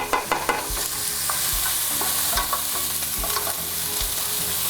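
Food sautéing lightly in a pan, a steady sizzle with repeated stirring scrapes and low rhythmic knocks of the utensil against the pan, close and fairly loud with no talking.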